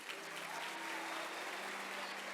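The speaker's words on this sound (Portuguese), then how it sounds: "uma salva de palmas, gente." A church audience breaks into steady, continuous applause that fills the room at an even level throughout, with no voices rising above it.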